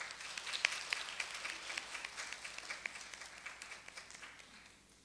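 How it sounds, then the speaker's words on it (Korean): Audience applause welcoming a lecturer onto the stage at a Korean pharmaceutical safety lecture, a fairly quiet, steady patter of many hands clapping that thins out toward the end. "그럼 큰 박수로 김동환 교수님을 무대로 모셔보도록 하겠습니다."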